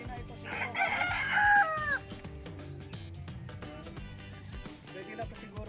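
A rooster calls out close by in a rural bamboo and papaya area outdoors, one strained crow rising and falling over about two seconds, while people talk throughout and other faint sounds fill the background.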